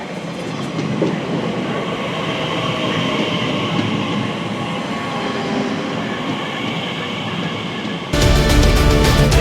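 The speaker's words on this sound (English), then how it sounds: "We'll just wait for this train now to take us to Heathrow" A London railway train bound for Heathrow rumbles steadily nearby with a loud, continuous roar and rattling, growing harsher and louder toward the end.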